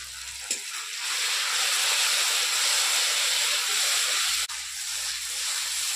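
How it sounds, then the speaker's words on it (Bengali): Spice paste fries in hot oil for a ridge gourd dish, giving a close, steady hiss and sizzle that swells after a brief quiet start and runs on evenly, with a small clink near the end. "মশলাটা দেখুন তেল ছাড়তে শুরু করে দিয়েছে, মশলাটা ভাজা হয়ে গেছে।"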